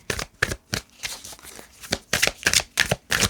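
A deck of cards is shuffled in repeated quick riffling bursts, about a dozen crisp ruffles in a steady rhythm, close and fairly quiet with no talking.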